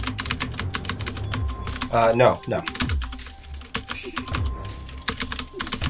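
Rapid clicking keystrokes on a computer keyboard tap out in quick bursts, close and crisp, while people talk briefly over them.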